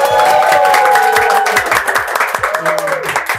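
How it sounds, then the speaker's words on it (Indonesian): An audience claps to welcome a guest onto a talk show set, a brief round of applause heard under a host's loud voice and background music throughout. "Boleh tepuk tangan dulu"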